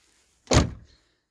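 A 2015 Mercedes Vito W447 door closes with a single solid, close thunk that fades quickly, with quiet before and after.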